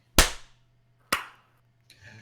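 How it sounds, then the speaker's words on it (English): Two sharp, loud hand claps about a second apart, close and dry, from podcast hosts clapping together to start the show, followed by a soft rustle. "let's clap and get this show on the road"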